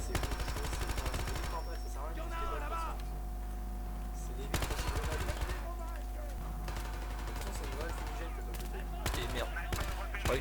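Gunfire rattles in the video game Battlefield Hardline: bursts of rapid automatic shots arrive in clusters with pauses between them, set over a constant low game hum and a steady background drone.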